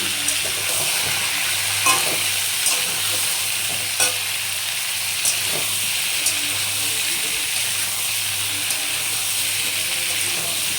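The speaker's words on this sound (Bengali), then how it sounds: "খুব ভালো করে ভেজে নেব, তাহলে তাড়াতাড়ি সেদ্ধ হয়ে যাবে।" Soaked chickpeas frying in oil for a papaya curry, a loud steady hissing sizzle throughout with occasional light stirring knocks, close up and continuous.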